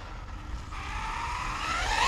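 A 2021 V5 Arrma Typhon 6S RC car runs at full throttle, its high electric motor whine climbing in pitch and growing steadily louder over a low rumbling roll, with no talking.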